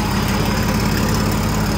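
A tractor engine idles close by with a steady, low continuous rumble and faint knocking throughout, with no one talking over it.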